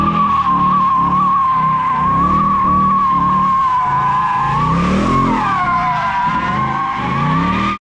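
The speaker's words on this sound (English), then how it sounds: "The quad-tip exhaust roars a pure American authority down every open tunnel" A Ford Mustang GT sports car with a quad-tip exhaust and manual gearbox roars loudly and steadily close by, its engine note rising and falling with a surge near the middle, heard alone without talk.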